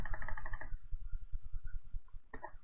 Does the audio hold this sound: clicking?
yes